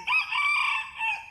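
A rooster crows loudly and close by at 5 a.m., one long drawn-out call with a rising start and a wavering, sustained middle.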